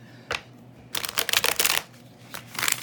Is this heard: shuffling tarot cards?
yes